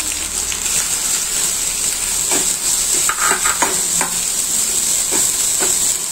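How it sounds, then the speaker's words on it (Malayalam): A cup of ginger frying in hot oil for puli inji, with a loud, continuous close sizzle and hiss and a few faint stirring clicks throughout. "ഇതിലേക്ക് നമ്മൾ എടുത്തു വെച്ചിരിക്കുന്ന 1 കപ്പ് ഇഞ്ചി നമ്മൾ ഇട്ട് കൊടുക്കുകയാണ്."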